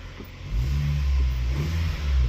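Honda Jazz engine starting and revving, a low mid-pitched motor catching and then rising in two short revs close to the microphone.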